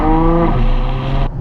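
A Ferrari F12 TDF engine roars loud and close for a brief burst, a rich harmonic tone that shifts down in pitch before cutting off abruptly.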